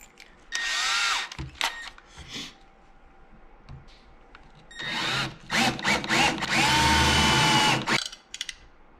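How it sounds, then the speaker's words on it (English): A power drill boring holes into a 1/8 inch thick plate during a Honda CRX fire extinguisher mount install, two loud whirring bursts separated by clicks and handling noises, the second burst longer. "I'm just gonna drill the 2 center ones first."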